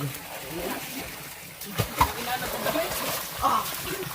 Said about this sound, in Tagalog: Ilog.